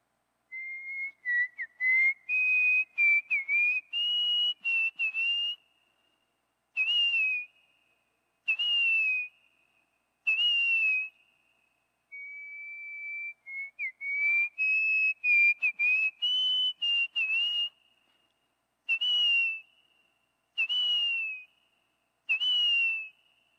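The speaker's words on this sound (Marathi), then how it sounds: "ही जी कुकू आहे ती एक अत्यंत इंटरेस्टिंग आवाज करते. शिट्टी तिची फॉर एक्झाम्पल" Repeated whistled calls of a grey-bellied cuckoo, a clear rising plaintive phrase followed by series of short, evenly spaced whistles, sounding close and alone with no talking.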